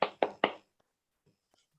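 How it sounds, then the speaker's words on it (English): Hand claps during an online video session: three sharp, close claps in quick succession, then quiet with a few faint taps. "Your clap is so much heard here"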